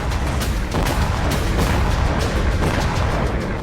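A Russian explosives depot blown up by a Ukrainian drone strike, heard as a loud continuous rumble of blasts and cracks with repeated sharp bangs through the clip.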